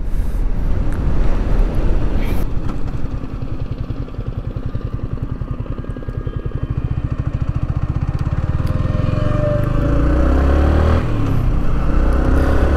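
A Yamaha R15 V3 BS6 sport motorcycle with ABS runs steadily on the road, its engine droning continuously with rising throttle and wind rush; no voices.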